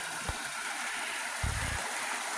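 Flowing stream water in the woods, a steady broadband wash of moving water with a couple of low thumps, continuous and fairly close.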